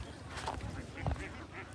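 Khaki Campbell ducks quack at a riverside duck farm, a few close nasal calls in a short burst over low background rumble, with a faint voice mixed in.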